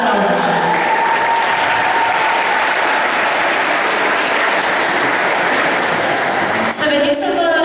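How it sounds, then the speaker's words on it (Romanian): Audience applause at a dance competition award ceremony in Giurgiu, a dense steady roar of many hands clapping throughout, with a few voices underneath. "Haideți să aplaudăm!"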